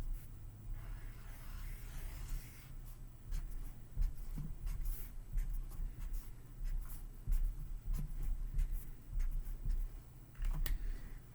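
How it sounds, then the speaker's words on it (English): Markers scratch and tap on paper while a sun is being drawn, a soft, close, irregular scribbling that continues without speech. "I'm going to start with drawing a sun."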